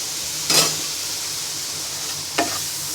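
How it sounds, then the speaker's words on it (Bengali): Pasta with a milk-based white sauce in a pan, seasoned with salt and ground black pepper, is stirred in two brief scraping strokes over a steady faint simmering hiss. "এবার ভালো করে নেড়ে নিব"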